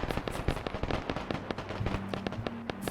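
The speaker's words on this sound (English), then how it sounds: "There is shooting happening up ahead." Gunfire crackles ahead in the military shooter Arma 3, with rapid irregular bursts of distant shots popping and echoing in quick succession, some louder and closer than others, with no talking.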